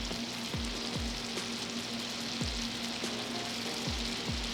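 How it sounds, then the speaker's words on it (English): Crawfish tails sizzle in garlic Cajun butter in a pan, a steady crackling hiss with soft pops and a few low clunks at intervals, all close and continuous. "Let those tails warm up and get acclimated in that nice garlic Cajun butter."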